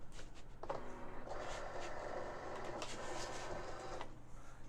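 A Cricut Explore Air 2 cutting machine whirs into motion, its motor and carriage giving a steady mechanical buzz that starts after a brief pause and runs for about three seconds before stopping, close and moderately loud with a faint background hum.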